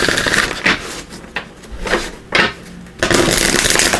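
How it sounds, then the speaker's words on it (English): Oracle cards are shuffled in quick rustling bursts, several short riffles followed by a longer continuous shuffle, close up and fairly loud. "I'm going to give these a quick shuffle,"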